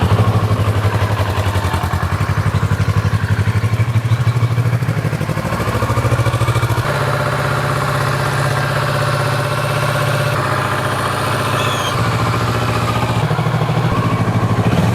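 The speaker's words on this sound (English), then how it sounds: "This bike does not sound good at idle at all." A Kawasaki Versys 650 motorcycle engine idles steadily up close, a loud, continuous low rumble with faint clatter and slight shifts in pitch, running alone without any talk.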